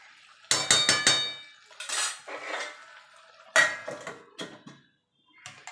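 Chicken curry is stirred in a cooking pot over a low-to-medium gas flame: a close series of sharp metal clinks and scrapes against the pot, irregular and intermittent, with no talking.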